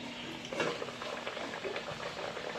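Luchi puffing up in hot oil during deep-frying gives a soft, continuous bubbling crackle with small popping bursts, faint and close, with no talking.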